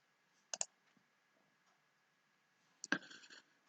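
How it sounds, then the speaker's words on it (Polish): A mouse click that creates an online account, a faint quiet click followed later by a sharper click with a short rattle, set in a hushed room. "i klikam utwórz moje konto."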